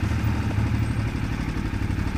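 A KTM 990 Adventure motorcycle engine knocking at low revs, a loud, steady, thumping low rumble like a big single-cylinder, heard close up without talk.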